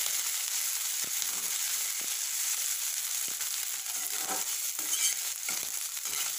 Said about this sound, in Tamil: ஆட் பண்ணி அதோட பச்சை சுமை போகிற வரைக்கும் நல்லா வதக்கலாம்